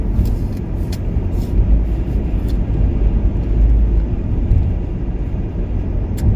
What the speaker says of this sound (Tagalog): Kita nyo, lakas na hangin. Yumayanig ang sakyan ko.